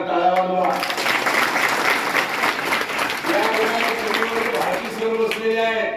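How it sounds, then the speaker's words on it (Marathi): An audience at a lecture applauds loudly, with dense, sustained clapping that fills the hall for several seconds while a voice speaks over it at the start and end. "एकदा आपल्या गाडी सरांकरता जोरदार टाळ्या वाजवा"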